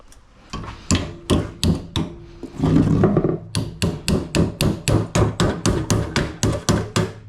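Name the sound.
hammering metal to bend it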